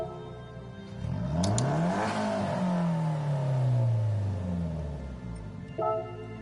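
A Nissan 180SX with its SR20 engine in Gran Turismo 7 revs up sharply, rising to a loud high whine before the pitch sweeps slowly back down, close and alone with no talk.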